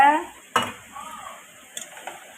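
Katla fish curry being stirred and sautéed in a pan, with sharp spatula knocks and scrapes against the metal over a faint sizzle, the strikes spaced irregularly across a quiet background.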